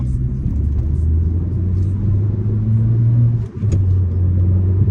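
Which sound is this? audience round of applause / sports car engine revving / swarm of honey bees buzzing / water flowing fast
sports car engine revving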